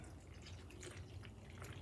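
Water is added to pouring paint with a soft, continuous trickle and drip, steady and fairly quiet throughout.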